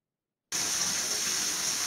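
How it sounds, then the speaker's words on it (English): Water pours from a tap into a bathtub, starting abruptly after a short silence, then a steady, loud, hissing gush. "Letting the water in, original sound."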